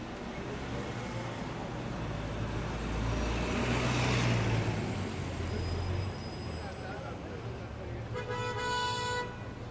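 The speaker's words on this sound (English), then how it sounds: "34th Street, big traffic jam here." Car horns toot amid a traffic jam on 34th Street in New York, set against a steady roar of idling vehicles and street noise, with a voice talking over it.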